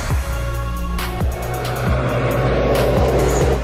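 A turbocharged tenth-generation Honda Civic accelerates hard, its engine note loud and rising steadily through the revs, with what sound like gear changes partway through.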